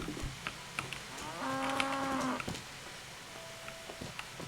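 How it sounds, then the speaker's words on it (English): Cattle moo in Kingdom Come: Deliverance, one long harmonic low from a ginger cow lasting about a second over soft game ambience and scattered small clicks, followed by a fainter, thinner call. "Pretty ginger cows over there, Procopius."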